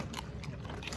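Loud, close chewing and biting from a farm animal, a steady crunching, scraping texture that fills the whole second with no talk over it.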